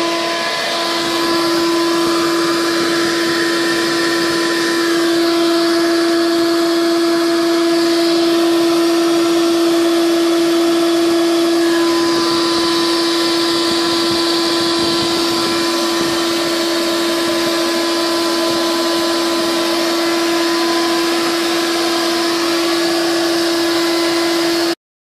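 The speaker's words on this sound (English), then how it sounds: "this is also at about a half an hour with the Shop Vac and the floor fan" Shop Vac exhaust blowing into a freezer to defrost it, with a floor fan running: a loud, constant motor whine with a steady high tone and airy rush continues unbroken for the whole stretch, close by.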